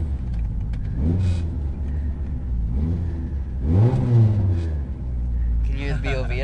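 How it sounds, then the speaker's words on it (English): A turbocharged Eagle Talon-style GSX car engine revs repeatedly nearby while stationary with a flat tire, rising and falling in loud swells over a steady rumble, with people talking over it. "You can rev her up though."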